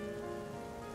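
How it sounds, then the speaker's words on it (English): Rain sets in within the police-management video game This Is The Police, a steady, soft hiss of drops falling on a surface, with a sustained musical tone running beneath it. "It's starting to rain."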